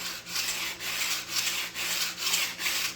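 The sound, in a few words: hand sanding wood back and forth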